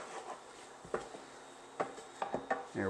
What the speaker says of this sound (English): we're just going to sprinkle it over the pan and stir it in